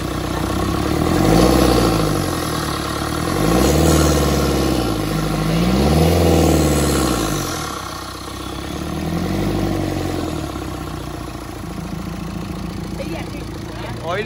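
A Tata Nexon car engine running after start, with repeated revs that swell and fade in slow waves over a steady idle, fairly close, with people talking over it.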